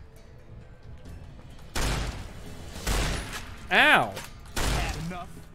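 Shotgun fire in Fallout: New Vegas, three or four heavy booming blasts spaced about a second apart, loud and close, with a short pained cry between them.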